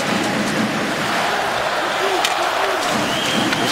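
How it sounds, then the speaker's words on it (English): Hockey arena crowd roars steadily for the San Jose Sharks during an NHL game against the Vancouver Canucks, a continuous loud wash of cheering with a commentator talking over it. "This crowd trying to get the Sharks pumped up as best they can."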